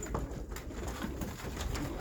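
Pet pigeons or doves kept for bird showers coo softly and steadily at close range over a low background hum, with no talking.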